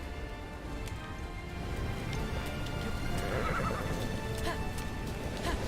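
A horse in the Breath of the Wild video game neighs and gallops, with steady hoof clip-clop under a whinny midway, set against a busy, rain-like game backdrop.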